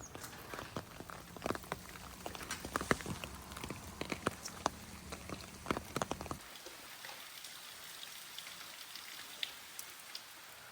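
Rain falling outside on a wet renovation site after a week of non-stop downpour, a steady patter of drops with scattered louder hits on surfaces, fairly close, no voices.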